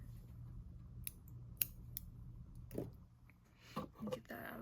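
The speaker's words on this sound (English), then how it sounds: "then we are going to snip our bobble color." Scissors snip yarn (the bobble color) during a crochet project, a few sharp metallic clicks and cuts up close, with a person talking quietly around them.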